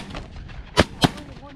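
Two loud, sharp shotgun blasts about a quarter second apart, fired at birds flying over an A-frame blind in the middle of a field during a bird hunt.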